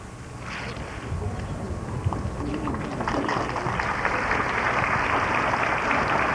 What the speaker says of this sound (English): the applause is in appreciation for the proficiency they have just displayed in the Manual of Arms